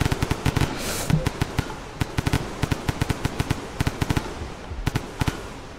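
Rapid bursts of gunfire from a minigun in the video game Rain World, with sharp repeated cracks in irregular clusters, loud and close, with no talking.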